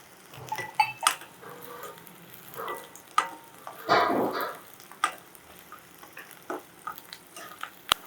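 Onions, green chillies and garlic frying in hot oil in a pan, a soft sizzle with scattered stirring clatters, a dog barking faintly in the background.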